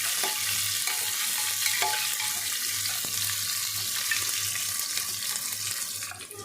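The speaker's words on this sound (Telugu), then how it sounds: "ఇవన్నీ మనం బాగా ఫ్రై చేసుకోవాలి" Onion, green chillies and curry leaves frying in oil for mutton curry, a loud, dense, continuous hiss of sizzling with faint stirring and a low steady hum underneath.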